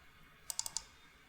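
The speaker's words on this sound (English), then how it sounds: "send your mouse to the in between a vertex and then double click" Four sharp, quiet clicks of a computer mouse in quick succession, like two double clicks, against faint room hiss.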